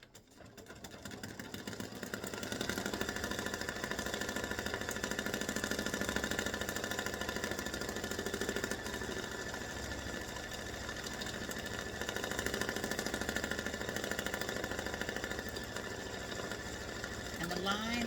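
An embroidery machine stitches lines onto cardstock with a steady mechanical whir and rapid ticking that runs for the whole stretch at moderate loudness.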